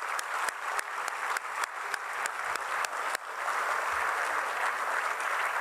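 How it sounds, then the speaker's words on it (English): An audience at a high school awards night applauds for contributors and scholarships, giving dense, steady clapping for several seconds with a few sharp, distinct claps standing out early on. "Can we give them applause, please?"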